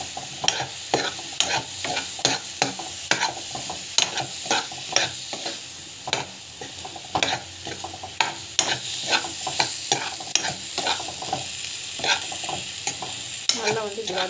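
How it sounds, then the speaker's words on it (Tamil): Raw banana pieces with chili powder sautéed in a pan: a constant sizzle under rhythmic, sharp scrapes and knocks of a stirring spoon, close and busy throughout, with no one talking. "நல்லா வந்து இப்படி வதக்கிக்கணும்."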